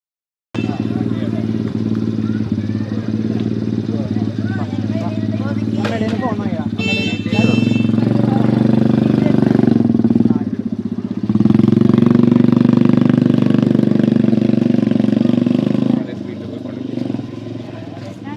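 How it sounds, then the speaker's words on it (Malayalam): An ATV engine running during a farm ride, a steady, fairly loud mid-pitched drone that swells and eases as it moves, with voices talking over it throughout. "അടുത്തതായിട്ടൊരു ATV റൈഡാണ്. നമ്മൾ ഇതിൽ കയറിയിട്ട് ഒന്ന് റൈഡ് ചെയ്യാൻ പോവാണ് കേട്ടോ."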